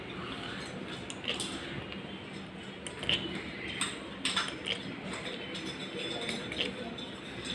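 Light clinks and taps of Reona enamel cookware lids being set onto serving pots, a few sharp metallic touches over a quiet background with faint talk.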